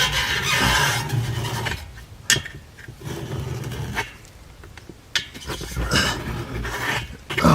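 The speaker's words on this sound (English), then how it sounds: "let's draw a line to cut into the drywall" Drywall being cut in a home ceiling during an air inlet install for a cigar lounge: rough, rasping scraping strokes come in irregular bursts with short gaps, close by and moderately loud.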